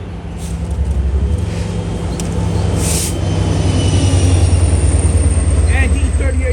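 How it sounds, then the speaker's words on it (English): A Long Island Rail Road train rumbles into a station with a heavy low drone and rolling wheel noise, brakes hissing and squealing faintly as it nears, loud and close. "And here comes train"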